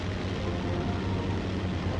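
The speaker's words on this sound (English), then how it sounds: "Start up and the engines of the closely packed range burst into life." Hawker Sea Fury piston fighters run their engines on a crowded deck, a steady, loud low rumble and drone with no break and no voices.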